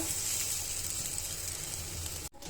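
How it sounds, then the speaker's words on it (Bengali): Pointed gourds boil in water in a pot, giving a steady, fairly loud hiss and bubbling with no voices, then a brief dip near the end. "পটলগুলো সিদ্ধ করে নিব বসিয়ে দিলাম বলক এসে গেছে"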